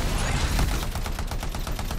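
Rapid automatic turret gunfire in the video game Anthem, a dense sustained burst of evenly spaced shots, loud and close, with no talking.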